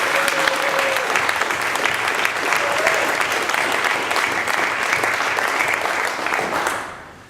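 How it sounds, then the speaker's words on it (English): A closing rally crowd gives long, even applause for the panelists, loud and dense for about seven seconds with a faint cheer early on, then tapering off quickly at the end. "if you could all give a round of applause to all the amazing panelists"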